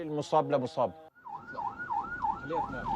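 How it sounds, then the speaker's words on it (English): An ambulance siren wailing in a repeating rising-falling pattern, steady and fairly loud, following a brief stretch of talk. "They had to wait for 10 minutes before the ambulance was permitted to advance."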